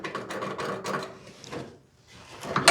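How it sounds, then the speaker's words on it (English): A scratch awl scrapes through Sharpie marks on a 1940 Ford-style body panel while a third brake light is being fitted, giving close, uneven rasping strokes with short pauses between them. "Now we take the scratch awl, scratch through the Sharpie"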